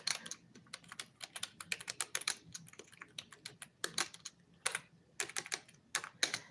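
Quick bursts of keystrokes on a computer keyboard, close and clear, with uneven rhythmic clusters of clicks and short pauses between them in a quiet room.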